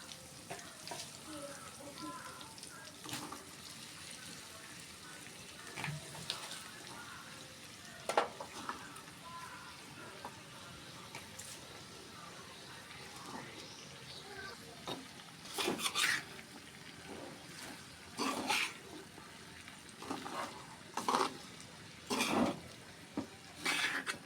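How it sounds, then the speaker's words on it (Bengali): Greens (shak) fry and sizzle in a pan for a potato-pumpkin dish, with a soft steady sizzle throughout and sharp bursts of stirring and scraping later on, close and clear with no talk. "এখন এর মধ্যে আমি সুন্দর করে শাকগুলো দিয়ে দিব।"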